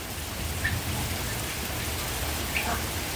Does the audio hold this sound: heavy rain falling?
yes